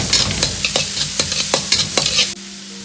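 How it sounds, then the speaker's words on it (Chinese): Small aromatics are stir-fried in a wok with a little oil over medium-low heat for salt-and-pepper prawns: crisp sizzling broken by repeated scraping strokes of a spatula, then the scraping stops and a quieter hiss remains. "锅中留少许的油，下入小料，保持中小火煸炒出香味。"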